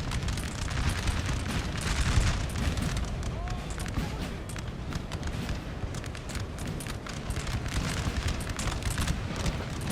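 Artillery and cannon fire in the Napoleon Total War battle game, a dense continuous rumble of booms and blasts with overlapping bursts, steady and loud throughout.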